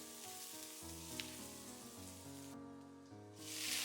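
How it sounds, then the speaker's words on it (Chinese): Scallion, ginger and garlic stir-frying over low heat in a little warm oil in a wok, a soft, steady sizzle under prominent background music, swelling louder at the end. "炒鍋燒熱放少許食用油，油溫微熱，下入蔥薑蒜，小火煸炒，炒出輔料香味。"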